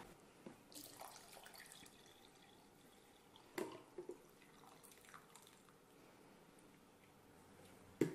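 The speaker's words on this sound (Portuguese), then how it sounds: "Agora eu vou colocar 1 litro de água" Water pours into a blender jar for acerola juice, a faint trickling wash with a few louder splashes and clunks near the end.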